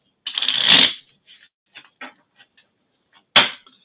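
Cards riffle-shuffled in a loud burst, followed by a few soft taps and clicks as the deck settles, then a second quick riffle.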